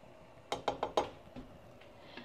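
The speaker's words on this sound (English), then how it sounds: "We're going to give this a stir." A spoon clinks four quick times against the side of a pot of boiling water while stirring in elbow macaroni, then fainter scrapes follow, close and fairly quiet.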